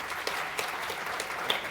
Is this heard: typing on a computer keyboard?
no